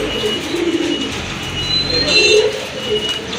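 Pigeons coo in a sale loft holding a brightly colored male and other fancy breeds, soft low calls in short bursts over a faint background hum.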